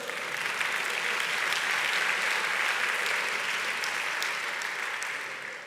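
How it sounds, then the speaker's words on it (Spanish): Sustained applause from a conference audience at a business forum, dense and steady throughout, fading slightly at the end with no voices over it. "Los aplausos van para él"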